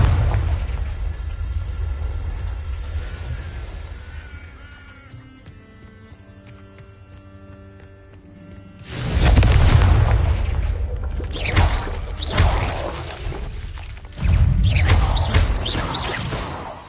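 A Confringo blasting spell goes off in Hogwarts Legacy: after a quiet stretch of ambient music, loud booming explosions erupt in two heavy bursts with rumbling low-end tails.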